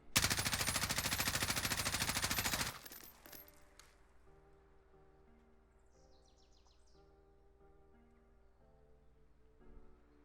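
M4 rifle fire in Warzone: a loud, rapid continuous automatic burst lasting a couple of seconds that stops abruptly, followed by quiet game ambience with faint clinks and tones.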